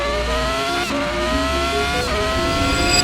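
A Schumacher-era Formula racing car in a modded racing sim, driven at Sepang, screams at high revs with rising gear pulls and sharp shift breaks, loud and continuous.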